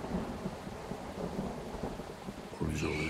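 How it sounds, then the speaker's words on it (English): Steady rain patters under a low rumble of thunder in the video game Farmer's Life, with a brighter, louder burst of storm noise near the end. "It's raining."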